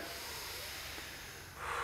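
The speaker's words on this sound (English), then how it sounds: "Take a big deep breath." A long, deep breath drawn in and let out during a guided foundation-training exercise, steady broadband airflow close to the mic that swells louder toward the end, with no talking.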